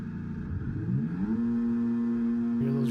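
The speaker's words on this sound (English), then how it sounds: "Hear those revs go up." Race car engines rev on the starting grid of a racing video game at the Austria track, a loud sustained engine drone climbing steadily in pitch and then holding a high, steady revving tone, with another surge near the end.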